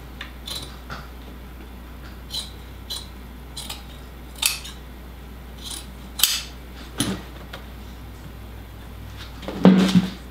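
Scissors trim burlap on an Eastlake chair during upholstery work, a scattering of short snips and light metallic clicks spread through quiet room tone.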